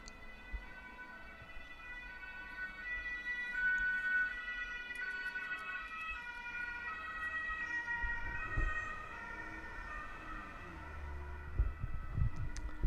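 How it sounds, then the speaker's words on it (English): Emergency vehicle sirens wail steadily in a city street, distant and moderately faint, layered over low traffic rumble that swells toward the end. "Not sure if you can hear the sirens,"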